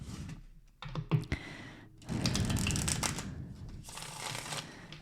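A deck of tarot-style cards being shuffled by hand, with rapid riffling bursts and a longer steady flutter, close and alone.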